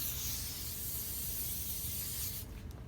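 A can of tape adhesive sprays a light, continuous hiss onto an ankle, close and fairly quiet, stopping near the end.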